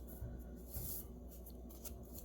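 Tarot cards being shuffled by hand, soft riffling and sliding bursts that come close and faint in a quiet room, with no talking.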